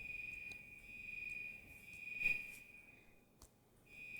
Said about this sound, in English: this alarm been going off for 5 minutes